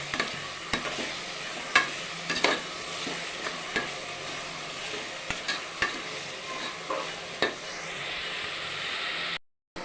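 Onions, mushrooms and spices being sautéed in a pot for mushroom biryani: a continuous loud sizzle with regular clacks and scrapes of a stirring spoon, and no speech.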